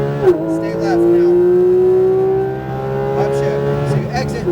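Car accelerating hard on a race track at Speed Vegas, a loud, close engine rising steadily in pitch, then a brief dip from a gear shift before climbing again, with an instructor talking over it.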